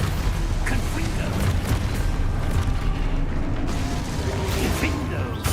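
Confringo fire-blast spell explosions in Hogwarts Legacy, a continuous roar of booming, rumbling blasts and crackling bursts that stays loud throughout, with no clear gaps between impacts.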